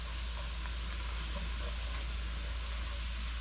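Onions and carrots frying in a pan while being stirred for a coconut curry fish stew, a steady, even sizzle with faint scraping over a constant low hum.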